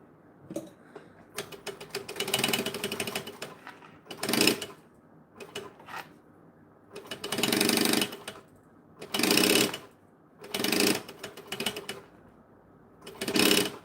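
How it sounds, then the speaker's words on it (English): Close and clear, a sewing machine top stitches along the long sides of a strip of fabric, running in repeated bursts of fast mechanical rattle broken by short pauses and no talking. "In half again, top stitch the two long sides."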